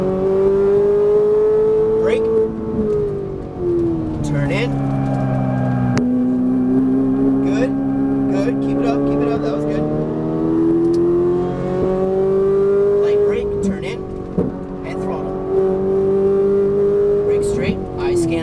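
Ferrari 458 Italia engine pulling hard on a closed track, a loud continuous howl whose pitch climbs and dips with throttle and gear changes, with an instructor's voice talking over it throughout.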